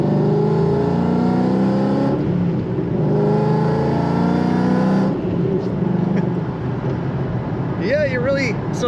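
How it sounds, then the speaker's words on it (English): A tuned 2009 Ford Mustang Shelby GT500 Super Snake accelerates on a highway, its engine note rising and falling through the revs under a steady rumble of road noise, with a brief sharper whine near the end. "we're revving up to where I feel the tires getting to their brake-free area"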